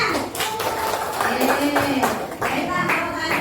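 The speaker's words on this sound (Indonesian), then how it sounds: "Kita tepuk tangan" A group of children in a classroom clap their hands in short rhythmic bursts while a teacher talks over them.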